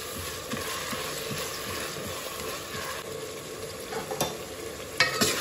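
Tomato and onion fry in a pan with salt for a vegetable dum biryani, giving a steady close sizzle broken by scraping stirs and a few sharp clinks of a spoon.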